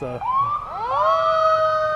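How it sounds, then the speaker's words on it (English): Sirens at a parade wind up from a low growl into a rising, sustained wail, loud and close, with several overlapping tones settling into a steady high pitch. "Sounds like the sirens are about to take off."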